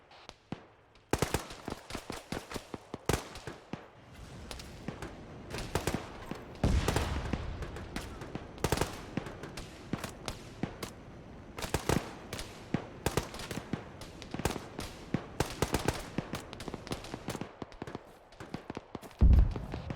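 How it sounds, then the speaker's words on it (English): An incoming rocket artillery barrage strikes in a dense run of sharp, loud impacts and cracks, some clustered in rapid bursts, continuing almost without pause over a low rumbling background. "Artillery is inbound, brace for rockets, out."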